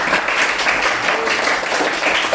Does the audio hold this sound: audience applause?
yes